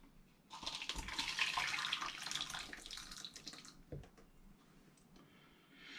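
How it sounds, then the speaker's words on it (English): Hot mulled spiced hard apple cider with fruit pours steadily through a funnel into a demijohn, a continuous close trickling and gurgling rush that tapers off, with a soft knock partway through. "I'm not worried about pouring this in now. It'll pour through the funnel."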